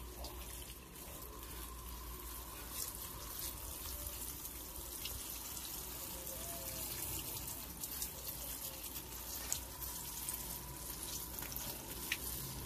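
Succulent plants on a balcony being watered, a soft, steady trickle and splash of water running continuously at low level without speech.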